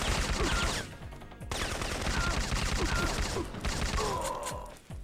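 Video game gunfire in Syphon Filter during an assault on Rhoemer's Stronghold, rapid close bursts of shots in dense volleys, broken by a brief pause after the first second.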